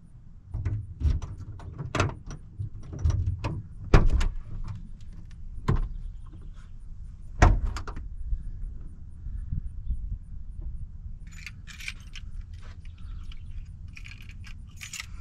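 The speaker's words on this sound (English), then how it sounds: "Gotta open the back door." The back door of a van is opened, giving a series of sharp metallic clunks and latch knocks over low rumbling handling noise, followed by lighter rattles near the end.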